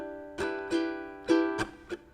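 Ukulele strumming the verse chords of a pop song, five distinct strums in a loose down-down-up pattern with ringing sustain between them, played alone and up close.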